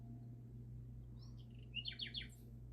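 Birds chirp from a TV speaker indoors, with a few quick faint tweets and a short bright trill over a steady low hum, while cats are nearby.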